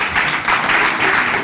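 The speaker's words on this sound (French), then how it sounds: "Applaudissez." A studio audience applauds in a brief, dense burst of clapping, steady and fairly loud throughout.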